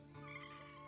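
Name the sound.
pet cat meowing on streamer's lap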